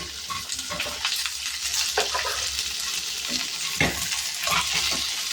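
Shallots, brinjal, drumstick and okra are sautéed in a pan for sambar: a continuous close sizzle with intermittent scrapes and stirring knocks, and no talking.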